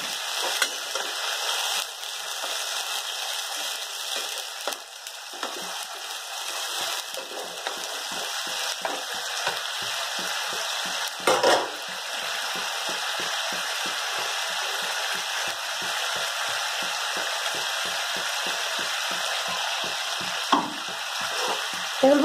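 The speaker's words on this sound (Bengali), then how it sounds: "এখন আমি পেস্টটাকে দিয়ে দিই, যা পেস্ট করব, কাঁচা লঙ্কা, টমেটো," A paste of green chilli, tomato and ginger fries loudly in a pan, a steady bright sizzle punctuated by rhythmic scraping strokes of a spatula stirring it, continuous and close.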